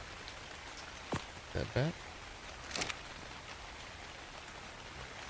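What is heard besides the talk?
rain falling in the video game ARK Survival Ascended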